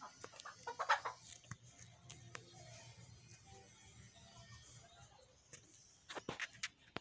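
A chicken clucks in a quiet outdoor setting, scattered soft clucks and scratchy rustles with a faint steady hum beneath, growing busier toward the end.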